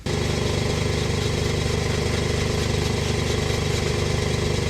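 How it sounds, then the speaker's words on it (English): A home air compressor runs steadily while building pressure for mounting drag slicks with hand tools, a loud continuous motor drone with a fast mechanical chatter, close and unbroken, with no talking. "my air compressor is building about 40 psi"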